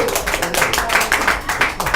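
Brief applause from a church congregation, a dense patter of many hands clapping at steady loudness throughout, with faint voices mixed in.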